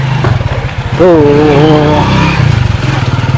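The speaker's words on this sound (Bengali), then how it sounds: "বাইক স্টার্ট হয়ে গেল।" A motorbike carrying family passengers starts up close by and runs with a rough, pulsing low rumble that steadies into a continuous idle while people talk over it.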